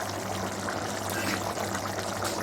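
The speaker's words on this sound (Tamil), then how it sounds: "இப்போ தயிர் ஆட் பண்ணிக்கிறோம்." Yogurt being poured into a Pakistani-style chicken gravy, giving a soft continuous wet pouring and bubbling sound, steady and fairly faint, with no voices.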